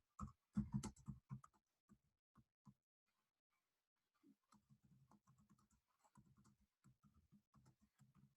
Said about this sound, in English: I'm going to type in the chat box now what I need you to do